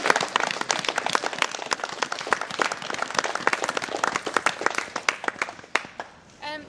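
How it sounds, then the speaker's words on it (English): Audience at a fire station ceremony claps, a crisp cluster of individual hand claps from a modest crowd that thins out and tapers off near the end. "so big round of applause"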